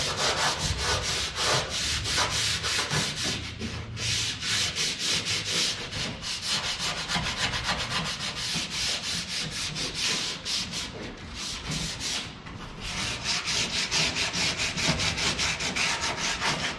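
Hand sanding of wood, a steady rasping scrape repeated in quick back-and-forth strokes, close and loud throughout with brief pauses between passes and no talking.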